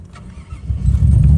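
A Mazda RX8 with a fault that keeps its gears from engaging cranks and catches, its low engine rumble swelling loud and close after a quieter first half and holding steady to the end.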